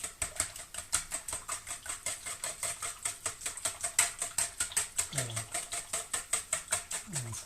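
A brand-new whisk beats kefir donut batter in a bowl with fast, steady, rhythmic clicking strokes close up, continuous throughout, while someone briefly speaks over it.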